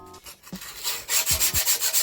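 Sandpaper rubbed back and forth along the edges of deck pieces, a steady rhythmic scratching of close strokes that quickens and grows louder in the second half.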